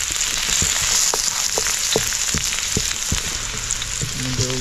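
Garlic fries to golden brown in a hot pan, giving a loud, steady crackling sizzle with scattered sharp pops and a faint low hum underneath.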